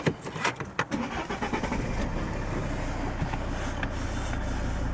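A diesel Volvo XC60 with just over 100,000 miles is started: a few quick cranking bursts catch into a firm start, then settle into a steady, close idle.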